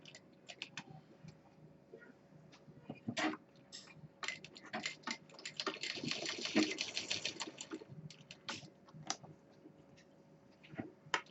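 Sewing machine stitching cloth for a handmade college bag, steady mechanical needle clatter with ticking clicks running in bursts, close and fairly quiet, with no talking.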